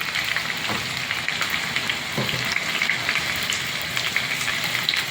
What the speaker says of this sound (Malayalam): എൻ്റെ കുഞ്ഞു പാത്രമാണ് കടുക് വറുക്കുന്നത്.